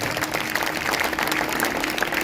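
Steady, dense applause from a sermon audience, a continuous wash of clapping that holds at a fairly loud level without pause.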